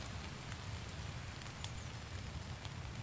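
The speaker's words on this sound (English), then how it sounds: "So we're sitting here in the rain" Steady rain in the game Jaws of Extinction falls as a faint, even hiss of droplets pattering on surfaces, continuous and soft at a campsite with a fire burning.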